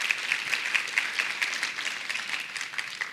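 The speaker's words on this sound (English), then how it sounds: "I want to give you guys all a big round of applause" A conference audience gives a round of applause, many hands clapping in a fairly even patter that holds at moderate loudness for several seconds, heard from within the room.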